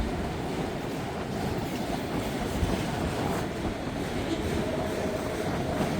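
Northbound train rolling past on a cold, windy morning in Hamilton, a steady, loud rumble of wheels and cars with faint rhythmic clatter, heard close and continuous.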